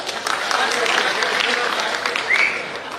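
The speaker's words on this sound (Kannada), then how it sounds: "ನೀವೆಲ್ಲ ಏನು ಚಪ್ಪಾಳೆ ತಟ್ಟಿದ್ದೀರಿ" An audience applauding at a stage event on Kumaraswamy and Khader, a steady dense wash of clapping lasting throughout, close and moderately loud, with crowd murmur mixed in.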